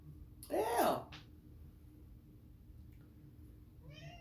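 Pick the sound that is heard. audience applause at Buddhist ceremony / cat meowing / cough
cat meowing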